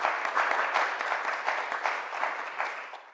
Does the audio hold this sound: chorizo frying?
no